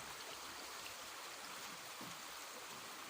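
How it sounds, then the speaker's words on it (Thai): The Mekong River flows in a steady, broad, hissing rush, even and unbroken throughout, with no voices. "บรรยากาศแม่น้ำโขงนะครับน้ำน้ำจะแห้งนะครับเนาะ"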